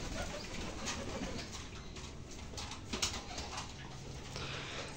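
Domestic pigeons on a small farm loft coo softly under steady background noise, a few low murmuring calls rising and fading over several seconds, with occasional faint rustles and no talking.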